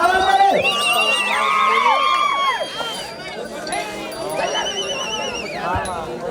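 A village crowd at an Ongole bull race shouts and whoops loudly, with many rising and falling voices overlapping in a close, excited din that eases briefly in the middle before swelling again.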